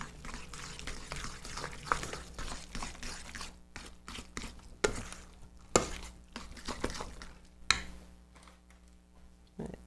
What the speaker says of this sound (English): I'm going to mix this all up.